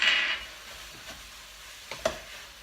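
Spinach is mixed into chicken sizzling in a hot pan, a brief burst of hiss at the start fading to quiet frying with a few soft scraping stirs; no talking.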